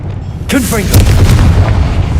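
A Confringo spell is cast in the video game Hogwarts Legacy and lands as a booming, punchy blast over a steady low rumble. The burst is followed by crackling debris, and a voice is briefly heard nearby.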